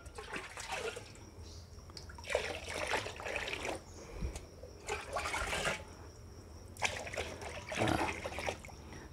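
Liquid organic fertilizer being poured into a drum of about 20 liters of water, a soft trickling splash that comes in several separate bursts over a quiet background.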